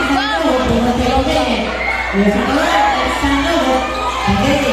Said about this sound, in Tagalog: Tamayo ang sinisigaw. Request ng crowd.